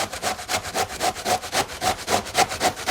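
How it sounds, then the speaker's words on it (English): Cabbage grated by hand on a box grater, a rhythmic rasping scrape repeated about four times per second in even strokes, close up and with no voices. "just grate the cabbage"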